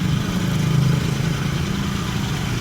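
A Honda motorcycle engine fitted with a Vario 125 injector runs nearby with a fuel-injection fault, giving a steady, slightly uneven idling rumble that is loud and unbroken.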